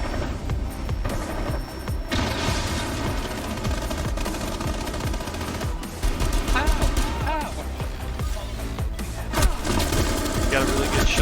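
Rapid automatic gunfire crackles in dense bursts during a Rainbow Six Siege match, loud and continuous with a steady game hum beneath and a voice talking over parts of it.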